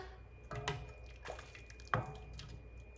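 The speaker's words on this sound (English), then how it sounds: "Just gonna ladle out my brine." Pickle brine ladled into a jar during water-bath canning, heard as a few soft splashing drips and pours, two sharper at about 0.6 and 1.9 seconds, close and fairly quiet with no talking.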